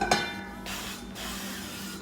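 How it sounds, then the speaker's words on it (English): A short burst of avocado cooking oil spray hisses over a sizzling pan, followed by a steady broadband hiss of hot oil, fairly close and with no talking. "I have some avocado cooking oil that I'm gonna spray on"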